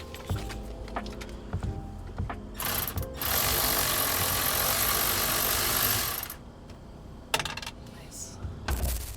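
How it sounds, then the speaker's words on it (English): A Milwaukee powered ratchet works on parts during an RV repair: a loud, steady buzzing whir of about three and a half seconds in the middle, with shorter ratcheting bursts and mechanical clicks around it. "we got a powered Milwaukee ratchet"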